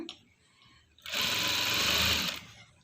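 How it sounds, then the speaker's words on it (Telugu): A sewing machine runs a steady, close whirring burst of stitching for about a second and a half as piping is sewn onto cloth, preceded by faint handling sounds and no speech. "దీన్ని ఒక హాఫ్ ఇంచ్ క్లాత్ వదిలేసుకుంటూ నేనైతే ఇలా స్టిచ్ చేస్తున్నానండి"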